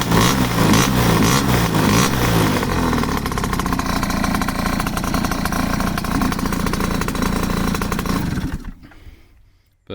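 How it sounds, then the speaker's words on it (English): A Japanese-style custom scooter engine runs loud and close, revving with rising and falling pitch, then settles into a rattly tick-over before cutting off abruptly near the end. "Tick over and revving, brilliant."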